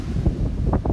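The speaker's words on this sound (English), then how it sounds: "Hopefully it's not too windy for you to hear." Wind buffets the microphone on an open beach at Coquina Beach on Anna Maria Island, Florida, a steady loud low rumble with gusty swells and possible surf beneath, no talking.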